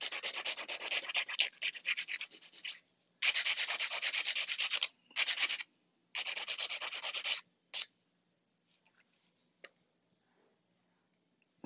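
Acrylic nails are hand filed in several bursts of close, raspy scraping strokes, each run lasting a second or two with short gaps, then only faint scattered ticks and rubs toward the end.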